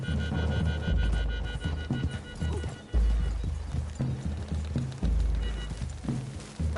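Horses in Red Dead Redemption 2 gallop close by, hooves clip-clopping in a quick, steady rhythm, with deep thuds and an occasional snort.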